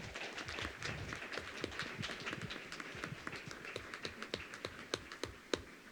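A meeting audience applauds with a dense run of hand claps at moderate distance, thinning out into a few scattered claps toward the end.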